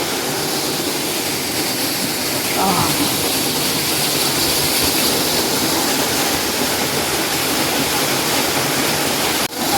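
Gokundi waterfall in the Sahyadri hills roars as a loud, continuous broadband rush of falling water close by, with no pause across the stretch.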